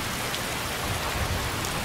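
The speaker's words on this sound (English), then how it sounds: "Dude, it's raining." Steady rain falls in the video game Skyrim, a dense, even hiss of drops on surfaces near a mill, moderately loud and constant throughout, with no voices over it.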